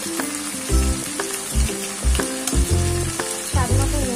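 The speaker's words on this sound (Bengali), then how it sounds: "এবার সবকিছু উপকরণ খুব ভালো করে মাংসের সাথে কষিয়ে নেব" Mutton frying with cumin and coriander powder for a potato mutton curry gives a steady, close sizzle broken by stirring thumps, with tonal, music-like notes running alongside.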